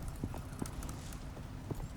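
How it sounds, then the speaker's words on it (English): Horse hooves clip-clop in the survival video game Icarus, a steady close rhythm of hollow thuds over a soft background bed, with no talking. "I will ride the stupid horse"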